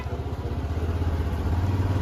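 A motorcycle engine chugging while the bike squeezes through a long traffic jam before Sitapur on the road to Kedarnath; a loud, close, rhythmic low thumping that stays steady throughout, with no talk.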